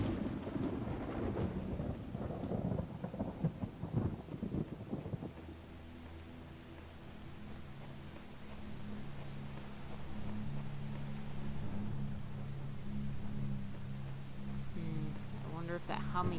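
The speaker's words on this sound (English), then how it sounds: "Is it just me, or is the lightning getting more intense?" A loud thunderstorm in The Talos Principle video game, with a heavy rumble of thunder at first, then steady rain pouring down that continues throughout.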